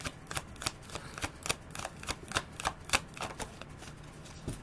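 Wisdom Oracle cards are shuffled in a quick series of soft riffling flicks and taps, close but quiet, in an irregular rhythm.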